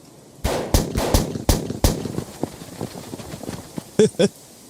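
Gunfire in a mountain standoff between soldiers and holed-up fighters: a rapid string of loud, close shots, then scattered quieter pops and a final pair of sharp bursts.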